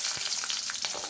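Dried red chillies fry in coconut oil in a pan, a bright, steady crackling sizzle, close and fairly loud, lasting about a second.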